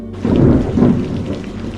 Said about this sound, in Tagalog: Sa gabing yon, habang bumubuhos ang ulan at kumukulog.